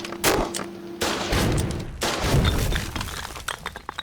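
Gunfire and crashing impacts in the war video game Foxhole, a rapid barrage of sharp, loud bursts with breaking, shattering tails, several overlapping shots across a few seconds.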